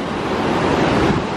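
Ocean surf washes steadily at high tide on Nantasket beach, a loud broadband rush of breaking water mixed with wind buffeting the microphone, with no clear gaps between waves.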